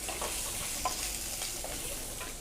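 Fennel, dried chillies and shallots fry in a pan with a steady close sizzle and light scraping stirs, no talking.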